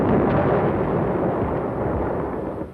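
Naval guns bombard coastal cities in the Korean War near Inchon, heard as a dense, continuous rumble of heavy blasts and booms that rolls on without pause and fades slightly at the end.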